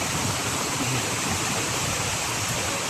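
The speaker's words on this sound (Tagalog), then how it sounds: "May ilog na po dito." A mountain river rushes in a dense, loud, unbroken roar close by, steady for the whole moment with no talking.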